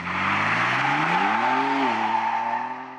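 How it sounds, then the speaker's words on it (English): A Ford Bronco Raptor on a gravel rally stage: engine noise rises in pitch under a continuous tire squeal and gravel skid, loud and close, easing off slightly at the end. "Squealing the tires on the gravel."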